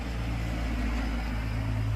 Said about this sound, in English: loud trucks